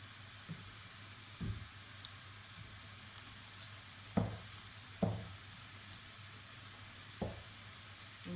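Onions frying in a pan for a karela (bitter gourd) fry, a low continuous sizzle broken by several sharper scraping stirs of a spatula, close and quiet with no voices.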